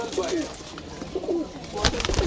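Pigeons coo close by, several soft repeated throaty calls over a noisy background.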